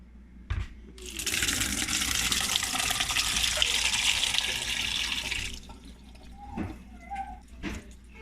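Water from a container of soaked gel beads gushes out in one loud, continuous pour lasting a few seconds. It is framed by a couple of soft knocks and handling sounds before and after.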